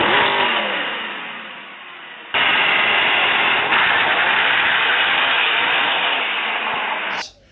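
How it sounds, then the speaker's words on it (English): A Mercedes-AMG SLS Black with a 6.2-litre V8 revs hard and loud, the roar dipping slightly, then surging again and holding steady at high revs for several seconds before cutting off abruptly. "Hamilton, who clearly has a need for speed, added a Mercedes-Amg Sls Black to his garage."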